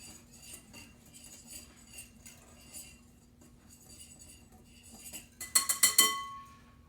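Garlic and dry spices (salt, garam masala, turmeric) are mixed in a bowl for chicken tikka masala: quiet scraping and stirring give way to a brief burst of bright metallic clinks of a utensil against the bowl near the end.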